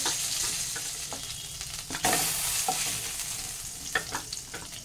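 Rohu fish frying lightly in hot oil, a steady close sizzle with scattered sharper crackles and light stirring knocks throughout, with no voices.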